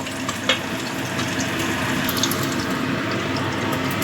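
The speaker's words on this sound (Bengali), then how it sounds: "এবার জাস্ট একটু এপাশ ওপাশ করে, খুব বেশি কড়া করে ভাজবো না, অল্প ভেজে নেব।" Small batashi and tangra fish fry in oil in a pan, a continuous close sizzle and bubbling, with a light knock near the start and faint clinks as they are turned.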